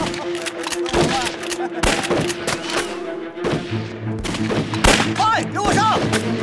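Gunfire in a war drama set in occupied Jiaodong during the anti-Japanese war, sharp loud shots cracking out irregularly among sustained rumbling, with shouting voices mixed in under the blasts.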